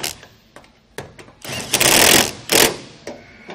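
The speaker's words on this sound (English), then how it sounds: "Then we'll grab our impact and your 3/4 inch socket." A cordless impact wrench with a 3/4 inch socket tightens cone lug nuts on a trailer's side-mounted spare tire, giving a few short, loud hammering bursts close by, with quiet gaps and small clicks between them.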